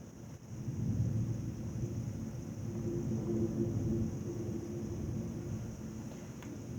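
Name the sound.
thunder during a thunderstorm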